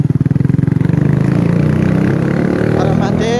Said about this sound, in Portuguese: acordar ele com a pop zona do escapamento turbo